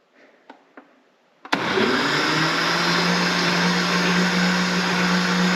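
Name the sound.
blender churning cream into homemade butter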